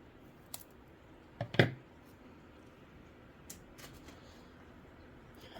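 A few crisp snips as a spent Cattleya orchid flower spike is cut back in a hanging basket, two close clicks then quieter rustling, faint and without talk.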